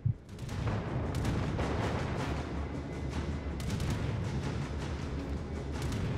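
Heavy naval gun salvos and rumbling booms from warships in World of Warships battle, dense and loud throughout with repeated sharp blasts over a continuous low roar.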